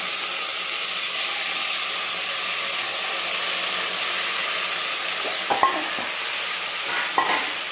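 Soaked toor dal stirred into a hot frying pan for a fenugreek dal, giving a steady broadband sizzle throughout with a couple of brief scraping clinks from the spoon near the end.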